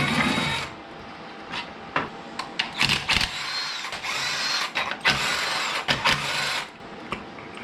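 10mm valve cover bolts come off a K20 engine swapped into a Mazda, heard as repeated short bursts of fast mechanical ratcheting whir, close and fairly loud, separated by brief pauses, with no talking.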